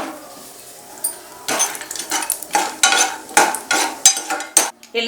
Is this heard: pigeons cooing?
no